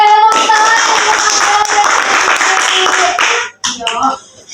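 A school group counselling session, students clapping hands together in a burst for about three seconds, then it stops abruptly and a voice begins talking.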